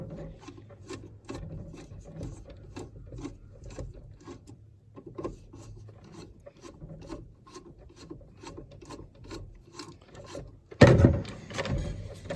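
A screw is loosened on a tabletop glass tube pyramid patio heater with a steady run of rhythmic rasping clicks. Near the end it is cut off by a louder metallic clatter.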